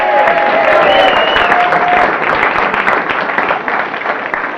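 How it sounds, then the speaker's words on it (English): Pub quiz audience at the Pennine Tavern clapping loudly and steadily, a dense close round of applause with a few whistles near the start, tapering slightly toward the end. "Give yourselves a round of applause"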